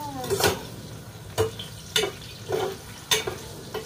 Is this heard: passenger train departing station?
no